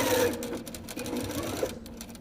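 Close, steady whirring of a sewing machine stitching loops for a picnic bag, running in one brief continuous burst with slight speed changes.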